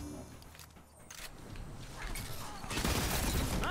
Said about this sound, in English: I died to the fusion rifle